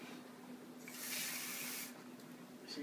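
Water pours into a cooking pot of Dominican-style beans and white rice, a steady, close splashing gush that swells for about a second and then stops.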